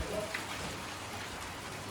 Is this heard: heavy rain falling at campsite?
yes